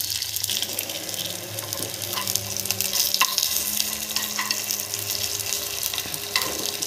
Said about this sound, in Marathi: वरती थोडंसं तेल टाकून घ्यायचं आणि 1-2-3 मिनिटांनी एक एक वडा आपण उलटा करायचा